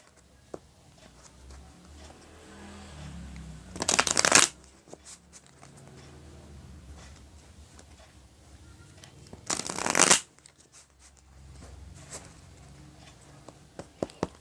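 Tarot cards shuffled by hand during a love reading, heard as two brisk, close riffling bursts a few seconds apart against a quiet room.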